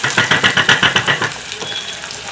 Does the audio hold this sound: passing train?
no